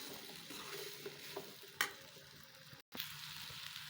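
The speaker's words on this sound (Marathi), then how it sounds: "चांगलं असं त्याला हलवत राहायचं, म्हणजे बुडाला चिटकणार नाही, कारण आपण यामध्ये बेसन पीठ टाकलं आहे." Besan-coated cauliflower for gobi matar sizzles steadily in a pan while being stirred, a soft continuous frying hiss with light scraping strokes and one brief louder clatter, heard alone without talk.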